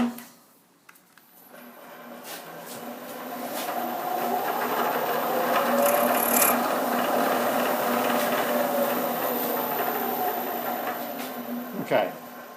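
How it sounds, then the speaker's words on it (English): A drilling machine chamfering the top of a thread with a spotting drill hums and whirs steadily at a moderate level for most of the clip, with a brief higher-pitched squeal near the end. "we'll just chamfer the top of that thread"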